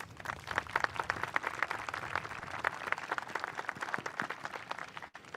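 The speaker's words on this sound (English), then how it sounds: "Please join me in recognizing the exceptional staff at Ossining High School by giving them a round of applause" A graduation audience at Ossining High School, class of 2021, gives the school staff a round of applause: steady, dense hand clapping with sharp individual claps throughout, continuous at moderate level and fading out at the end.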